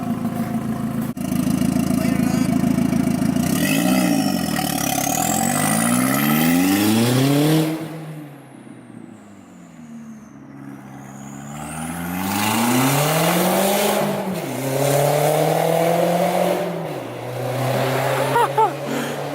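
An Audi with an open downpipe making a pull, the engine note rising in pitch through gears with a drop between shifts, a loud raspy exhaust that fades briefly then surges again as it passes.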